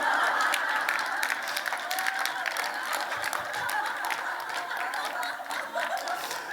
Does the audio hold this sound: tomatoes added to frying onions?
no